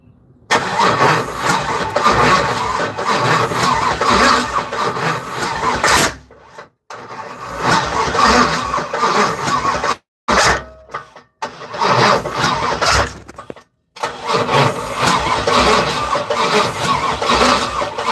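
A Camaro engine cranks and catches several times, roaring loudly between brief silent gaps, then runs steadily at a mid-pitched rumble.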